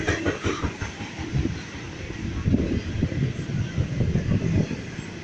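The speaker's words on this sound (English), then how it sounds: "This is a long train." A long train rumbles past close by, a steady heavy roar with rhythmic clatter of wagons running on without a break.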